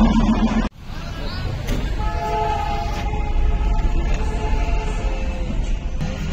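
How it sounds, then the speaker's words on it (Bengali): The Darjeeling toy train passes at a station. A sustained, loud rumble and clatter of rolling stock carries on after a sharp break near the start, with a voice heard over the noise. "এই দেখো টয় ট্রেন।"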